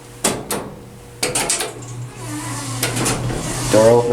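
A modded Atlas hydraulic swing-door elevator in Berkeley, California clunks as its door opens, with sharp latch clicks and knocks over a low motor hum, near and fairly loud, and a voice speaks briefly.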